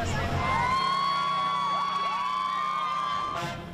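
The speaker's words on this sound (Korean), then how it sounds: "곳곳에서 환호성이 터져 나옵니다." A large outdoor crowd cheers and shouts along the route of the New York Thanksgiving Day parade, and a high whistle or whoop holds steady above the continuous roar.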